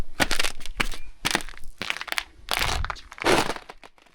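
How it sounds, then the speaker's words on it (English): Crunching and cracking footsteps on solid ice covering a road after a Florida snowstorm, several uneven steps close by, loud and crisp against a quiet background. "Ooh, it's ice. That's all solid ice."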